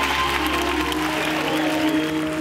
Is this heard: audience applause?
yes